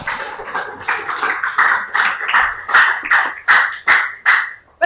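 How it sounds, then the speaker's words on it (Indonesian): A class claps for Naysila in a rhythmic, fairly loud pattern of separate group claps that speeds up and grows sharper toward the end. "Tepuk tangan sekali lagi buat Naysila."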